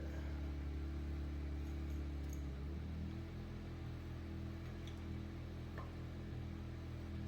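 Engine of a tractor being repaired runs and revs at close range, a steady low rumble that shifts pitch partway through as the speed changes, heard alone without talk.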